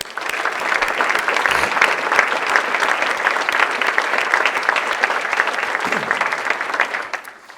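An audience at a college State of the College address applauds standing athletics professionals: loud, sustained, dense clapping from a large crowd that holds steady for several seconds before fading out at the end.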